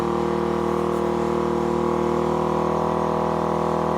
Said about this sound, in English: You can hear that engine start to rev up a little bit.